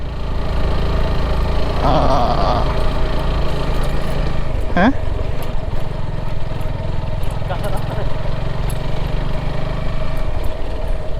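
A motorcycle engine drones steadily and loudly throughout as it climbs a road, with a brief rising whine partway through, while people talk over it.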